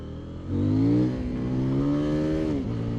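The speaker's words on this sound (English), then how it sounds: "In sport mode, just going on throttle, the front wheel comes straight up." A 2024 CFMOTO 800NK motorcycle engine revs up sharply under hard acceleration in sport mode, its pitch climbing and holding in a loud, steady drone, then dipping briefly before rising again.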